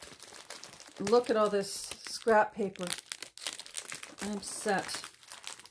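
Scrap paper crinkles and rustles in bursts as it is handled, mixed in with a person talking nearby.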